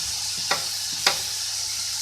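Capsicum and spring onion sizzle steadily in a pan, with two distinct scrapes of a spoon stirring through them over a constant, quiet hiss and no talking.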